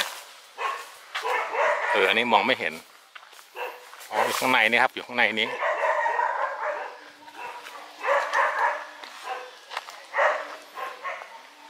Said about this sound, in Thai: บรรยากาศจริงนะครับคือจะมีเสียงหมาเห่าหอนอย่างนี้แหละนะ